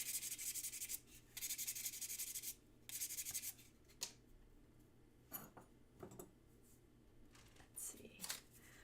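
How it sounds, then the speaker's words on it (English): Quiet, close hand sanding of a metal box clasp, several short scratchy rubbing strokes in bursts with pauses and small taps between them. "A little bit more sanding never hurts"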